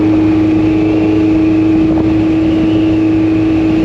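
A 1986 Honda CB1000 custom motorcycle running with a steady, loud low engine drone and a sustained tonal hum, heard close up during a ride with no talking.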